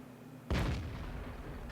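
Three 17-pounder tank guns fire a volley in the video game World of Tanks, producing one loud, deep, sudden blast that rolls on into a rumbling decay, with no one talking.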